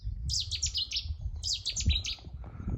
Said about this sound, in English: That was a Chetty's warbler.